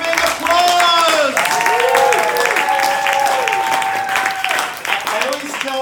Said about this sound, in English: let's get some big applause